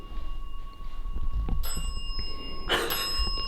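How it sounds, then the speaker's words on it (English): An electronic REM pod ghost-hunting alarm inside the abandoned Indiana State Sanatorium tuberculosis hospital gives two short, sharp, ringing tones about a second apart, fairly faint against a quiet room. "I definitely heard a REM pod noise."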